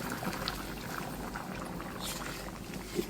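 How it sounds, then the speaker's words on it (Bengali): Hot water splashes and gurgles as it is poured into a pan of bottle gourd curry cooking with potatoes, a soft, close pour that runs steadily with a small splash near the end. "এই যে গরম জলটা দিয়ে দিচ্ছি"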